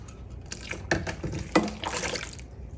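Water is poured into a container to make bone broth, a close, gurgling trickle with a few bright drips and splashes that rises and falls over a couple of seconds, with no talking.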